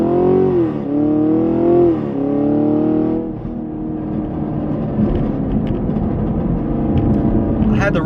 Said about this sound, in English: So we'll do another launch right here.